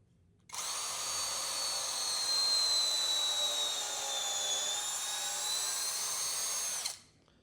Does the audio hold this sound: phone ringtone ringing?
no